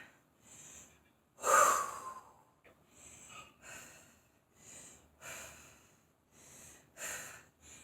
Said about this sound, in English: We're resting and breathing.